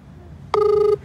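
A single short electronic telephone ring sounds on a phone call, a clear steady tone lasting under half a second over quiet room noise.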